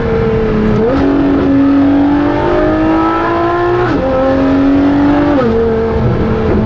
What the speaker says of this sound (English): I suppose I better put it into race and try even more aggressive shifts, and the LaFerrari race really hones the thing down even more.